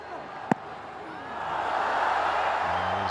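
A modest crowd at a cricket stadium for a Karachi Kings vs Islamabad United PSL match roars in a broad swell that builds and holds, with a sharp knock early on.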